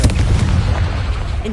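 Confringo explosion spell cast in a video game, a dense booming blast with rumbling low crackle held steady and loud over its short length, a voice faintly present.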